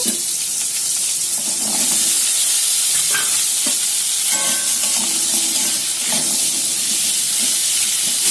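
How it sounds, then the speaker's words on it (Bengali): Sweet potato and pumpkin fry in hot oil with mustard seeds, a steady, loud sizzle broken now and then by soft scraping and clinks of stirring. "মিষ্টি আলু কুমড়োটা ভাজা ভাজা করে নেবো"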